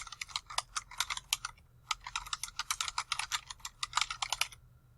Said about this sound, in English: Now we can go ahead and type the title of our paper in all caps.